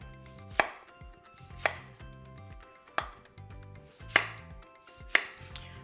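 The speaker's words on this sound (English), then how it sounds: "I'm going to chop this up." A knife chops tomato on a cutting board in five sharp, evenly spaced strikes about a second apart, each a crisp click over faint background hum, with no talking.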